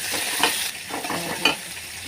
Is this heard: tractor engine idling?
no